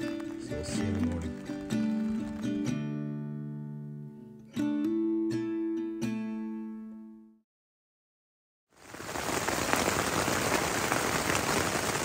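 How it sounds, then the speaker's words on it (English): Steady rain drums on a camping tarp in the Killarney wilderness of Canada. A soft, even hiss comes in after a stretch of melodic tones and a brief silence. "Started to rain again, so I'm back under the tarp"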